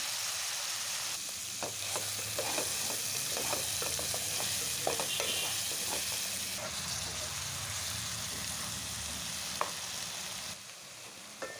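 Tomatoes for a prawn curry sizzle loudly in hot oil while a spoon stirs them, adding repeated scraping strokes over the constant frying hiss.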